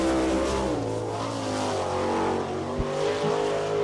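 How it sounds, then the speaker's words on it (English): A sprint car with an Eagle chassis and a Westmar engine roars down the track on its first lap at an Attica, Ohio speedway. A steady, droning engine note holds throughout, with one sharp thump partway through. "A Westmar engine coming down for his first lap."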